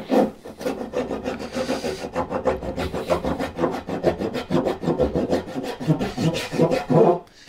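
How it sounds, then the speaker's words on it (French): Steady back-and-forth strokes of a crosscut hand saw rasping through wood, rhythmic and close, continuing without pause. "prendre la scie en cross cut, qui aura plus de mal à descendre dans le bois"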